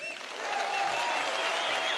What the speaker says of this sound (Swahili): Makofi kwa mheshimiwa.